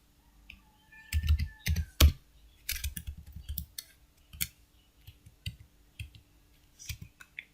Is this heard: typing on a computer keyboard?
yes